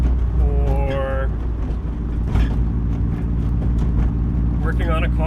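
Inside a moving car that needs a new wheel bearing, a steady low road rumble and engine drone run continuously beneath someone talking.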